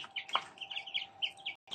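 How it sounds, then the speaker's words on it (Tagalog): Young chicks in a backyard poultry pen give a run of high, thin peeping chirps, close and fairly quiet, coming in quick irregular bursts. "Ito yung ating sisiw na ililipat na sa mataas na pwesto."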